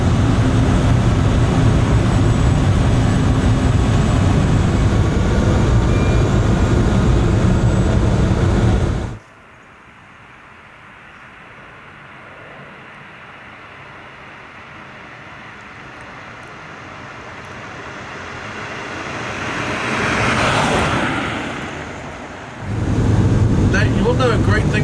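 A tiny Citroen Ami electric car drives flat out at about 46 km/h, giving a loud, steady roar of wind and road noise. It drops suddenly to a quieter hum, swells briefly, then the roar returns.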